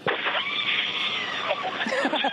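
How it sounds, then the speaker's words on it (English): Loud, sustained screaming fills the clip, harsh and bright, with excited voices breaking in toward the end. "Hear that screaming inside the capsule?"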